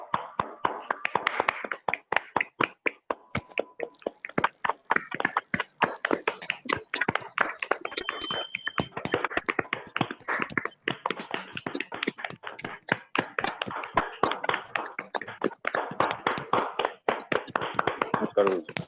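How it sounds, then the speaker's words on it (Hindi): Applause welcoming a speaker at an online festival event: a long stretch of crisp, rapid hand claps that pulse unevenly at close range. "एक जोरदार तालियों के साथ अनिल सर आपका स्वागत करते हैं"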